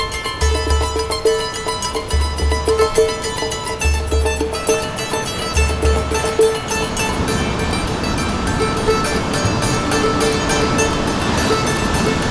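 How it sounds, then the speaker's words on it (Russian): Waves roll in on a Sardinian beach in a steady, loud wash of surf, with wind buffeting the microphone and a rhythmic low thumping early on. "под шум волн сегодня буду засыпать прям"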